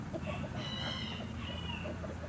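French Copper Marans and Australorp chickens give soft, repeated clucks and a few short higher calls over a steady low hum, close by and fairly quiet, with no talking.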